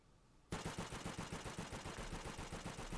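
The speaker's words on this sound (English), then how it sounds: "I'm pretty sure that's the DP27" DP27 light machine gun in Call of Duty: World at War, sudden sustained automatic fire starting after a short quiet lead-in, rapid evenly spaced loud shots continuing to the end.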